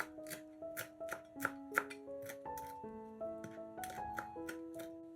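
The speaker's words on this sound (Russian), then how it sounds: "Мелко нарезаем небольшой пучок петрушки." A knife finely chops a small bunch of parsley quickly and rhythmically on a cutting board, crisp regular strokes over quiet background music.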